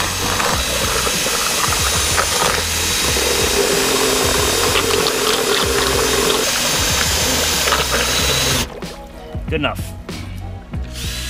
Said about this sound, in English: Mix it up nicely with the drill.